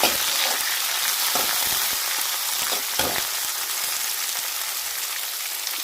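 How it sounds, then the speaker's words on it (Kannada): Chopped onions and green chilies fry in a pan, giving a steady, close crackling sizzle with a few sharper pops and stirring scrapes, with no talk over it. "ಇವು ಉಳ್ಳಾಗಡ್ಡಿ ಫ್ರೈ ಆಗಲಿ"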